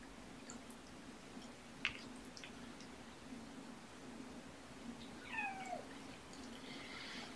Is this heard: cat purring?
yes